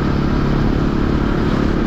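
A motorcycle carrying riders along a small road toward a riverside fishing and camping spot hums loud and steady throughout, its engine drone and rushing wind continuous with no voices heard.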